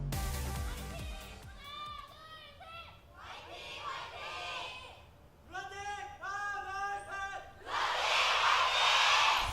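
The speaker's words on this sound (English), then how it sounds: "a guy leading the cheer for LUNATIC-HAI" A fan in an esports crowd leads rhythmic chanted cheers for LUNATIC-HAI, several repeated shouted phrases with the crowd joining, ending in a swell of broad crowd roar.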